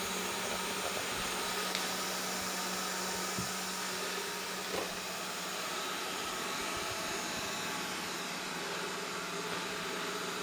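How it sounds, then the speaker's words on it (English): A Proscenic 800T robot vacuum cleaning a carpet gives a steady, fairly faint motor whir and airy hiss, continuous and unchanging with a few small bumps. "goes along the carpet cleaning it"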